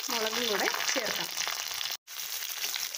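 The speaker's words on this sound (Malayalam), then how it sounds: "ഇനി പാത്രം അടുപ്പത്ത് വെച്ച് എണ്ണ ഒഴിച്ച് കടുക് പൊട്ടിക്കാം. ഇനി ഇതിലേക്ക് കറിവേപ്പിലയും മുളകും കൂടെ ചേർക്കാം." Mustard seeds, curry leaves and chillies sizzle in hot oil for a Kerala-style jackfruit seed stir fry. The frying is a loud, steady hiss with a brief dropout near the end, and a faint voice is heard early on.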